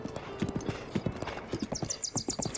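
Horse hooves clip-clopping in a steady gait with a short neigh toward the end, from a horse in the open-world video game Breath of the Wild, close and clear with no talking.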